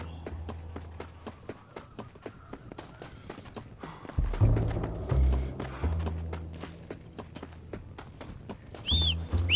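Horse hooves clip-clop steadily in Red Dead Redemption, a regular walking rhythm of hoof strikes that grows louder and heavier midway, with occasional deeper rumbles under the steps.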